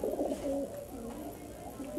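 Highflyer Giribaz pigeons, white birds dirtied by rain, coo in soft, repeated low throaty phrases close by, the cooing running steadily through the whole moment without talk.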